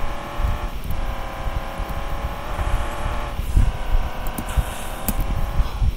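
A car in the stunt driving game Madalin Stunt Cars 2 drives with a steady engine drone whose pitch rises and falls, layered with bumps and thuds across six seconds and no talking over it.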